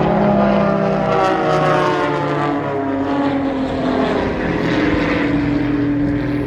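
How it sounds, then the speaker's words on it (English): Aerobatic propeller aircraft, including an orange S111X, perform at the Central Coast Airshow 2022, their engines droning loudly and continuously with shifting pitch as they pass overhead, with no voices. "Now Glenn Collins flying in what they call the slot in position 4 in the S111X, the orange aircraft"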